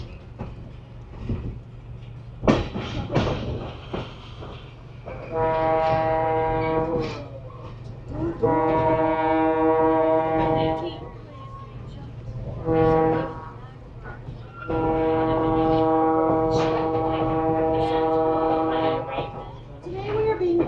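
Alco RS-3 diesel locomotive number 109, built in 1950, pulling a vintage train through the high desert, sounds several long, loud horn blasts over a steady rumble of rolling cars, with some chatter between blasts.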